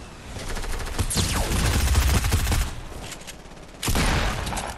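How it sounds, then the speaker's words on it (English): Rapid gunfire in an online shooter game, long bursts of automatic fire rattling loudly and continuously, a brief lull, then another loud burst near the end. "Someone's still shooting at me."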